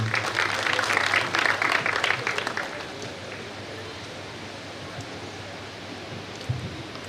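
An audience at a Saraswati felicitation ceremony greets performers of a Saraswati Vandana with a burst of dense clapping that fades out after a couple of seconds, leaving a quiet hall.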